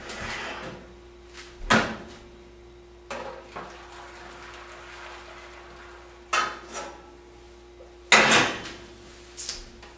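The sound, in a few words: placing pan of boiling water in oven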